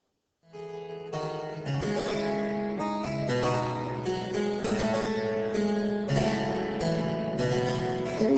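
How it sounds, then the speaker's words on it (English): A harpsichord plays a lively Baroque-style passage of bright, plucked string notes in quick succession, steady and fairly close, with no voices. "the harpsichord is a lot quieter, and it actually sounds very different because it's using something different inside."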